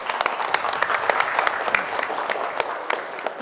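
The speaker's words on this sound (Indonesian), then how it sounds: "kasih aplaus untuk temannya" A classroom audience applauds presenting classmates with a burst of steady, dense clapping from many hands that carries on without a break.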